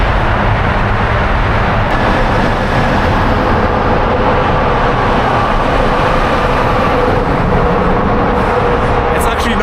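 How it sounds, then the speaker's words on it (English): Cars passing through a road tunnel in remote China, heard from a bicycle: a loud, steady, reverberant roar of traffic that fills the clip without letting up. "it's just so loud whenever a car passes"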